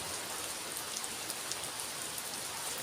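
Heavy rain pouring down steadily at home, a dense even hiss of drops with faint scattered patters, continuous and fairly quiet, with no voices.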